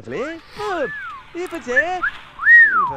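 Melodic whistled tones from a Sim in The Sims 2, rising and falling in several short phrases, with a longer bright whistle near the end.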